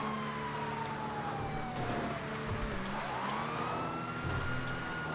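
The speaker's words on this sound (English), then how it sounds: "I like how if you hold the horn button down, it speeds the sirens up." Police car sirens in the GTA Online video game sweep in pitch and then quicken as the horn is held, looping steadily on their own at a moderate level with no talk over them.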